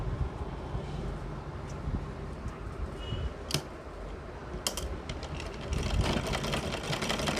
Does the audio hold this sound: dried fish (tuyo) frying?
no